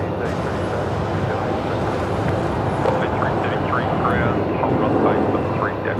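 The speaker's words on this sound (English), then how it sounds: "a Jetstar 320 on a move here" Jetstar Airbus A320 jet moving around Melbourne Airport, a steady broad engine rumble and whine holding throughout, with people talking over it.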